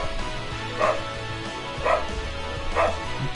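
A dog barks in a Final Fantasy X HD game scene, three evenly spaced short barks over a low droning music bed, with no talking.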